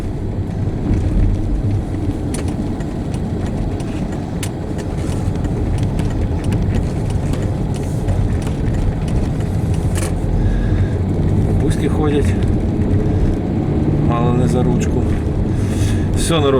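A Volvo car drives along with its engine running steadily, under a constant rush of road and wind noise. Someone talks over it.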